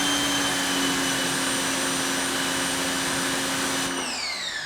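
A Westinghouse EPX3050 electric pressure washer (2050 psi, 1.76 gpm) runs with a loud, steady motor whine and spray hiss from close by, then its pitch drops sharply near the end as the pump winds down.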